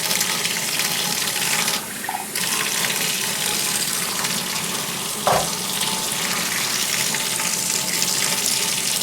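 Water flowing steadily from a sink tap into a kitchen sink with a strainer, a continuous loud hiss and splash with a brief clatter partway through.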